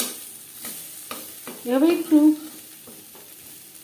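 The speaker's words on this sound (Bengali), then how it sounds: "উচ্ছে বেশ ভালো করে ভাজা হয়ে গেছে" Bitter gourd slices frying in a large wok for a garlic-free, onion-free vegetarian pea dal, with a soft sizzle and a few close scraping stirs, while a voice speaks briefly.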